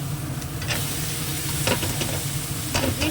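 Steady sizzling of spices frying in a pan, with a few scraping stirs of a spoon breaking through the constant crackle.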